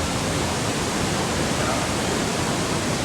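Loud, steady roar of a waterfall in Wadi Mujib, Jordan, rushing water filling the sound as a dense, unbroken hiss heard up close with no pause.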